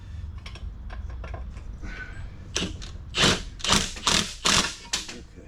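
Bolts on a Dodge Challenger driveshaft being tightened and torqued: close, sharp ratcheting clicks and metallic taps, sparse at first, then a quick run of louder bursts.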